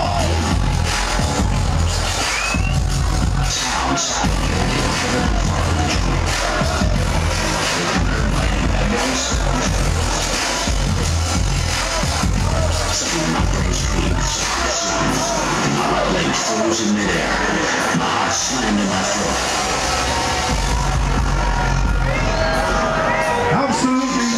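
Crowd cheering and whooping at a drum and bass DJ set at World of Drum&Bass in Miami, a dense, loud, continuous roar mixed with pounding music and shouts.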